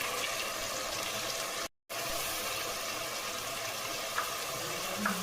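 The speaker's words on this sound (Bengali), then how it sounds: "মশলাগুলো একসাথে একটু ভেজে নেব।" Spices fry together in a pan for a mango and shol fish dish, a steady close sizzle that drops out for a moment before resuming, with no talk.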